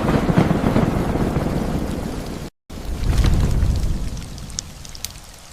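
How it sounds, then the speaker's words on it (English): Rain begins to fall, a dense steady patter with low rumbling, briefly cut to silence midway before resuming. "Hurry, the rain is starting."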